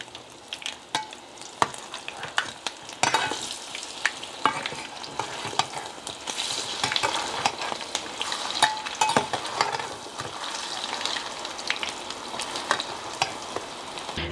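Rice cakes fry in a pan with a dense, continuous sizzle of hot oil, broken by scraping and clicking as they are flipped, loud and close throughout.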